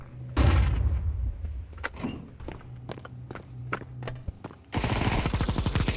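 An M4A4 rifle without a silencer firing in Counter-Strike 2, a fast burst of close shots near the start, scattered single shots and footsteps, then another loud rapid burst at the end.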